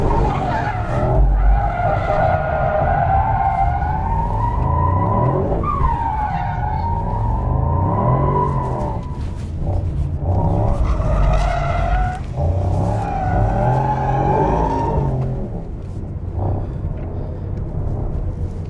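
Mercedes-AMG GT 63 tyres squeal and skid continuously as the car drifts in circles, a loud sustained screech with wavering pitch over a steady engine roar, close and with no talking.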